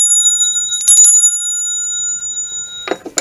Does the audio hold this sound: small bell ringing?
yes